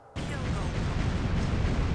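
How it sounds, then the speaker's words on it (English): A torpedo strikes a submarine in the Dangerous Waters naval simulation, bursting in as a sudden loud, sustained rumbling blast that holds at full strength to the end without fading. "Loud explosion."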